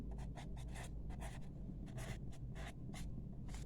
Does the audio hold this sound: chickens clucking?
no